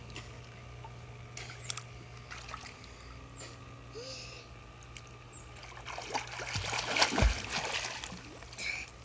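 An amphibian toy swims and splashes in a pool, with soft trickles early and a louder burst of splashing near the end, faint ticking underneath.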